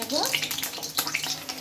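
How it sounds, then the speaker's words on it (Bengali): Eggs frying in oil in a home kitchen pan, a steady close crackling sizzle throughout with faint background voices. "ডিমগুলো আমি ভেজে নিচ্ছি আর একটু সাদা সাদা করে ভেজে নেব।"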